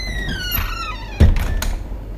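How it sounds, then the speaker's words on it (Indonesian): A door moving in a horror story setting, a short thunk with a brief squeaky scrape standing out over a faint eerie tonal background, fairly close. "Suara pintu bergerak memecah kegaduhan yang dibuat oleh Mona."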